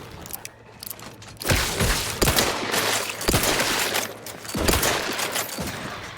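Gunfire in The Outer Worlds video game comes in loud, repeated bursts of rapid shots with short gaps between volleys, heavy and close over a rumbling background.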